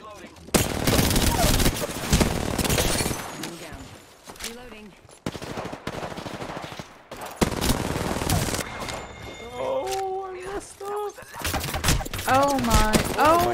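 Automatic weapon fire in the Apex Legends battle royale, long rapid bursts of gunshots repeating in close succession, loud and near, with brief gaps and some game effects between volleys.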